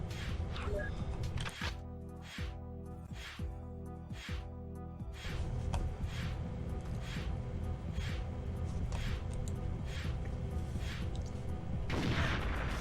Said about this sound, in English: caused the explosion through mines